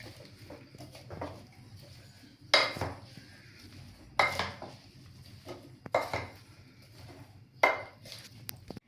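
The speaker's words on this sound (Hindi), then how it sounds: "अब इसको मैं करती हूँ मिक्स।" Okra is stirred with spices and green chilli in a pot. A spoon gives intermittent metallic clanks and scrapes against the pot over a soft background, with no speech.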